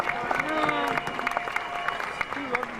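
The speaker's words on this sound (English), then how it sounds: "Adea Aupta, give her a round of applause" A crowd applauds and cheers for a speaker at a Washington, DC gathering, steady clapping with scattered whoops and voices layered over it throughout.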